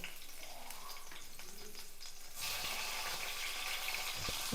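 Tomato and cucumber pieces fry in a pan for a chutney, giving a steady, fairly quiet sizzle that turns louder and denser partway through, with no talking.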